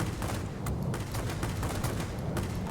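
Rapid-fire 30mm cannons on a Ki-162-I in the World of Warplanes video game rattle in a dense, continuous burst of loud, punchy shots with scattered sharper cracks.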